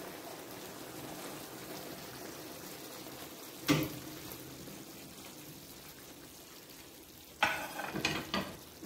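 Chicken shashlik sizzling in a pan: a steady low frying hiss throughout, broken by two louder bursts of scraping and stirring near the middle and the end.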